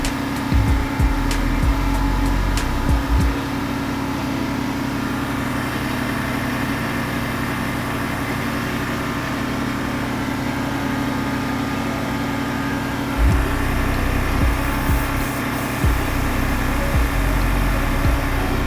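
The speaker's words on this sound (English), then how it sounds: "That compressor's loud." AC compressor running on a square body Chevy dually truck, a steady loud mechanical drone with engine hum beneath, some knocking and rattling at the start and again later.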